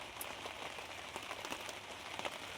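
Steady rain falling outdoors, a continuous soft hiss with scattered sharper drop hits, fairly faint and unbroken throughout.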